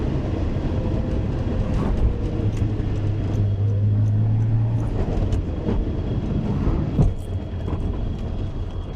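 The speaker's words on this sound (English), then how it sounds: "Just accelerate a bit, brake, accelerate a bit," Ford Anglia car driving on a test run with a new differential and brakes, its engine droning steadily and loudly up close as it accelerates and slows in turn, with no talk over it.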